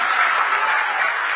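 A crowd applauds loudly for Maharaj ji at a convention centre inauguration in Gorakhpur, with a dense, sustained wash of clapping throughout.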